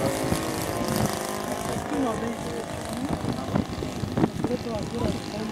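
An F4U Corsair propeller plane pulls out of a high-speed pass into a loop at an air show. A steady engine drone with a wavering pitch carries throughout, and someone talks over it.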